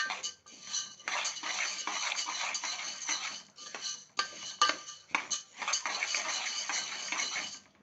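Urad dal is stirred in a frying pan, a metal spoon scraping and clinking steadily against the pan in quick continuous strokes, close and fairly quiet with no talk.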